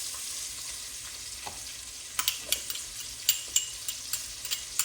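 Purple onion sizzles and fries in bacon fat for Southern-style green beans, a steady close hiss with sharp crackles and pops that grow more frequent toward the end, with no talking.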